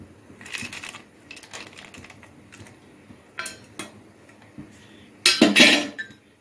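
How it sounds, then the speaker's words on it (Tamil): Cashews and raisins dropped into a pan of pineapple kesari, giving scattered light clinks and rattles, then a louder burst of sizzling and scraping near the end, close by with no talking. "இப்போ நம்ம வந்து இந்த எடுத்து வச்சுருக்கிற முந்திரி திராட்சையை இதில் போட்டுடலாம்"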